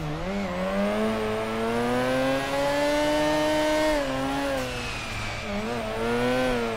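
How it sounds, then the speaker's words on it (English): A drift car in the DRIFT21 racing game holds its engine at high RPM through a long slide, producing a loud, steady whine that rises and dips slightly as the throttle is worked, with no voices. "Keeping it all up in the high RPM bands"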